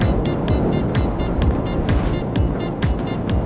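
An Italjet Dragster scooter accelerates hard under open throttle, its engine loud and close. The buzzing runs continuously, broken by rapid rhythmic pulses and bursts of wind noise.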